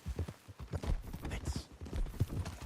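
Horse hooves clip-clop at a steady trotting rhythm in Red Dead Redemption 2, soft and fairly close, with faint voices in the background.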